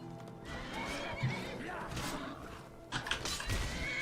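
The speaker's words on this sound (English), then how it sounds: "the horse and Imperial actually beat a bristleback" A horse whinnies and its hooves thud amid a fight in the video game Skyrim, with busy combat noise and scattered impacts blending together at a steady, fairly loud level.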